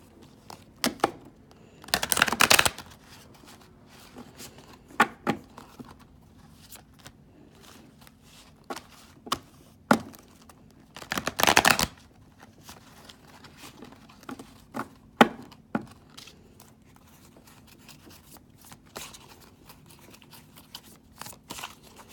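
Large cards shuffled by hand in two longer riffling bursts, with scattered soft taps and flicks in between, close and fairly quiet.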